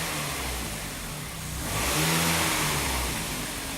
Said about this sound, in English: Keep it running. Just keep the idle as low as possible.